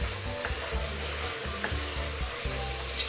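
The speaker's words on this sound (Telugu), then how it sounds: "ఇలా గోంగూర వేసుకున్నాక గోంగూర చాలా సాఫ్ట్గా ఉడికే వరకు మనం కలిపేసుకోవాలి." Gongura leaves stirred in a hot pan with spices, a steady sizzle broken by repeated scraping strokes of a spoon, close and alone with no talk.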